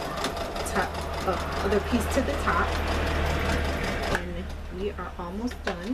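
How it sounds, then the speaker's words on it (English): A sewing machine stitches pieces of a bikini top together, its steady low whir running for about four seconds and then stopping, with a person talking over it throughout. "we're just sewing together the other other piece to the top"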